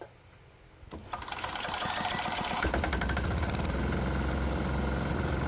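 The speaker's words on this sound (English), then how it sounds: "Let's go ahead and see what this stuff does to our little diesel engine." A small diesel engine runs on its own with no talk, starting faintly, then picking up into a steady, fast mechanical clatter that holds loud and even to the end.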